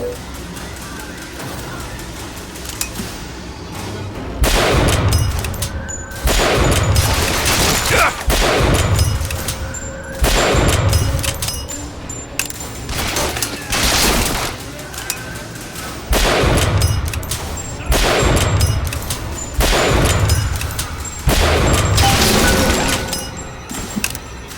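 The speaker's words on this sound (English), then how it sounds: "Who else is shooting at me?" Enemy gunfire in the video game Bioshock Infinite: repeated loud bursts and volleys of shots with booming impacts, continuing almost without pause through a long firefight.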